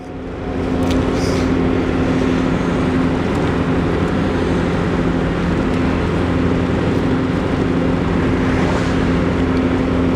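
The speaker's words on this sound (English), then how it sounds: "I will say this folks, pretty decent running vehicle." A 1990 Mazda Miata MX5 cruises at about 50 mph, heard from inside as a steady, loud drone of engine hum mixed with road and wind noise, with no breaks and no talking.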